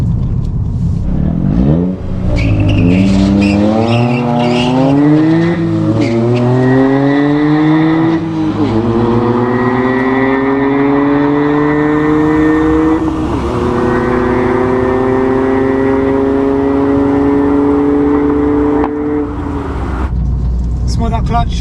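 Stock Toyota GR Yaris with an Eventuri intake launching down a drag strip: the engine climbs loudly through repeated rising revs with gear changes and a brief tire squeal, then holds a sustained high-speed roar close to the microphone.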